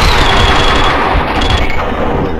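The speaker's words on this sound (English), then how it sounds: "Someone must have heard the gunfire." Loud, continuous automatic gunfire from the video game Max Payne 2, a dense rapid burst of shots filling the whole moment with no talking.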